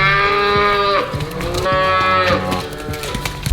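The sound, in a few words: cows mooing on a farm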